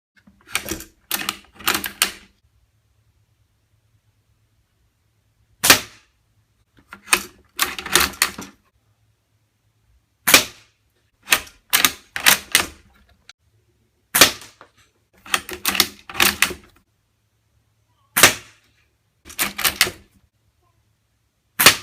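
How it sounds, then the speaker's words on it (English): G&G GM1903 A4 airsoft rifle firing during a shooting and grouping test, with sharp, close shots spaced a few seconds apart, some as single cracks and others as quick double or triple clusters, against a quiet background. "let's go ahead and do the shooting and grouping test"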